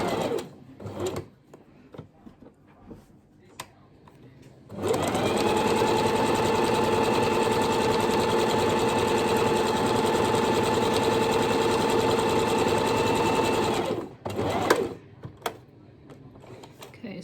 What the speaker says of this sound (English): I've sewn all the way around the outside, obviously left the bottom open for turning